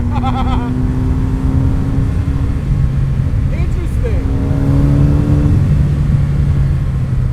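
A 2016 Specter Motor Works kit car engine rumbles loudly from inside the cabin, its tone rising and falling as the throttle is blipped, with a person speaking over it.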